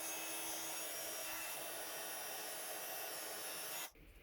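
A heat tool blows a steady, close airy whoosh while heat embossing copper metallic embossing powder, running continuously before cutting off near the end.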